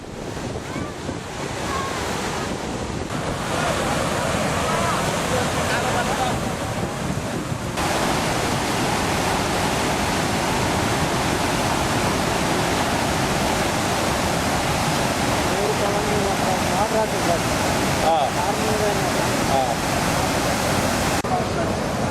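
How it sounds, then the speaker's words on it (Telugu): Godavari river water rushing loudly over the Pattiseema lift irrigation waterfalls, a steady, dense roar of falling and churning water heard up close without pause, with wind buffeting the microphone. "గలగలా పారే గోదావరి జలాలు వీక్షకులను ఆకట్టుకుంటున్నాయి"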